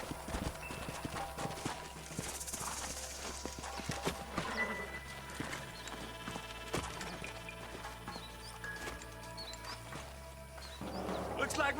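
Horse hooves clip-clop steadily in the Red Dead Redemption video game, with an occasional whinny over outdoor ambience and background music, while voices speak throughout.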